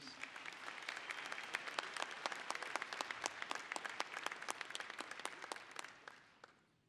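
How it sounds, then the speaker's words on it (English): A crowd at a winter college commencement ceremony breaks into applause, sharp claps spread across the room at a moderate level before fading out near the end. "Can we give them a round of applause too, please?"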